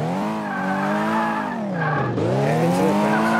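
Car engine in Car Mechanic Simulator 2018 whining through a handbrake turn, pitch dipping and climbing again with a smeared, tire-squeal-like skid, loud and continuous throughout with no voices.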